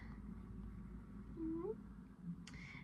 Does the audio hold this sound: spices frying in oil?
no